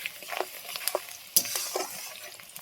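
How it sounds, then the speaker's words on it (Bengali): Onions sizzle and crackle in hot oil while a utensil stirs and scrapes the pan in irregular bursts, close and fairly quiet, with no talking. "এই তেলে আমি একটু পেঁয়াজ ভেজে নিচ্ছি।"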